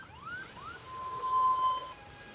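A faint siren sweeps up in short wails, then settles into a held tone, heard at a distance over quiet background noise.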